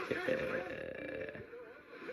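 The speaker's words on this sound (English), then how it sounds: "It's a burp, everybody." A short, fairly quiet belch in a Red vs Blue scene, a drawn-out, voice-like rasp lasting about two seconds.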